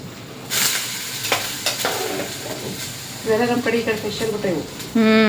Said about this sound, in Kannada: ಗ್ಯಾಸ್ ಬಂದ್ ಮಾಡಿ ಅವು ಶೇಂಗಾದ ಕಾಳುಗಳು ಹಾಕ್ಲತ್ತಾರ